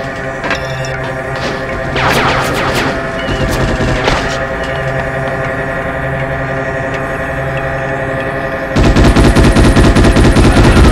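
Rapid bursts of automatic gunfire from the PS2 game Ghost in the Shell: Stand Alone Complex, loud and continuous over a steady hum, with sharp shots clustered early and a denser, louder barrage near the end.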